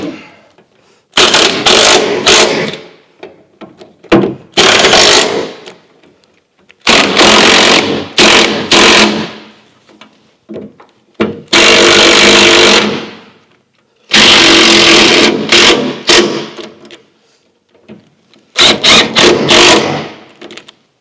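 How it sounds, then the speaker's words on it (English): A power tool tightening threaded bolts on a Scout engine, loud buzzing bursts of one to two seconds repeated about eight times with short silent gaps between them. "Now that they're all threaded, I can tighten them up with this."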